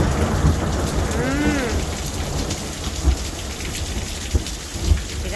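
Steady rain patters on surfaces while low thunder rumbles beneath it, with a few dull thuds of heavier drops breaking through the constant hiss.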